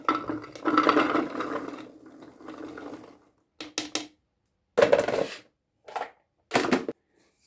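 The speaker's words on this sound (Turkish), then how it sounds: "blender'a koyuyorum." Garlic cloves ground in a blender, several short loud whirring bursts separated by pauses, following a longer stretch of rough grinding at the start.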